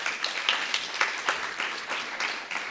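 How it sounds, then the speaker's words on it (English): Round of applause from an audience at a community celebration evening for student and community organizing, steady crowd clapping with scattered louder claps throughout. "we could give you a round of applause together"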